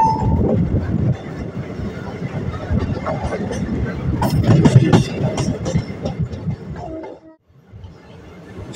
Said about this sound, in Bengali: এখানেও কিন্তু ট্রেন দাঁড়াবে না, ট্রেন বেরিয়ে যাচ্ছে, পাস করে যাচ্ছে